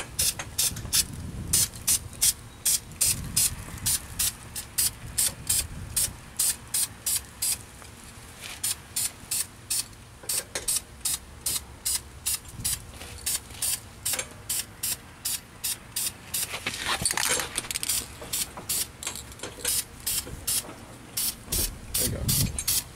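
Short repeated bursts of aerosol spray hiss in quick pulses, some held longer, close by, with occasional faint clinks between them, while painting a Jeep Renegade brake caliper red.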